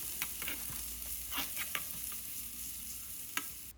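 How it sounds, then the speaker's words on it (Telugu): Chopped large onion hits hot oil in a pan for egg bhurji and sizzles with a steady, close frying hiss, while a few sharp clinks and scrapes from a stirring utensil break through it. "దాంట్లో మనము తరిగి పెట్టుకున్న ఉల్లిపాయని వేసేసుకోవాలి"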